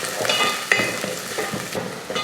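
Small onions and about ten cloves of finely chopped garlic sauté in a pan, giving a steady close sizzle and frying crackle, with stirring scrapes and a few sharper utensil knocks throughout.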